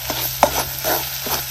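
A misal spice mixture is stirred as it fries in a pan, giving a soft oily sizzle with a few quick scraping strokes of a spoon, close and fairly quiet, with no talk.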